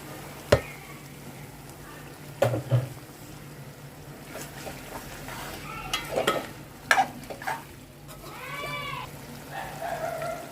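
Tomatoes tipped into a sizzling prawn curry in hot oil, with a steady low frying hiss, several sharp clatters of a utensil against the pan, and stirring scrapes near the mic.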